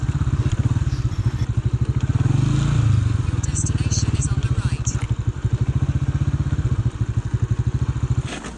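A motorcycle engine putters with a steady rapid thumping beat and some rattling while riding through a historic castle site in Fahraj, Iran. Someone talks over it.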